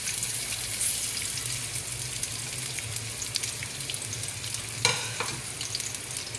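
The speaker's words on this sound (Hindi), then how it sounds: "इसको अच्छी तरह हम गोल्डन फ्राई करने तक पकाते हैं" Finely chopped medium onion frying in about one and a half big spoons of oil, a steady soft sizzle with faint stirring and a brief clatter near the end.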